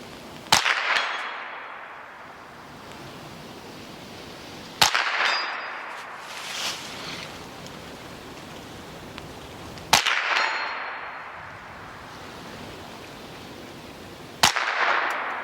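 Four sharp, crisp shots from a Ruger 10/22 rifle ring out at a target, evenly spaced several seconds apart, each a bright crack with a short ringing tail, with a faint voice briefly audible.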